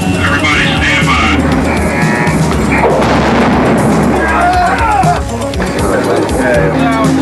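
Huge 16-inch naval guns aboard the battleship USS Missouri fire before dawn in the Persian Gulf, a dense continuous roar of booming blasts with radio chatter and voices running underneath throughout.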